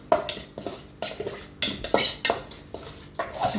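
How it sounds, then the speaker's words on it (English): Mash being stirred in a pot as a warm ingredient is mixed in: a quick run of about eight rhythmic scraping and clinking strokes of a utensil against the pot, close and clear with no talking. "then I'll add it on my mash. Mixing everything thoroughly"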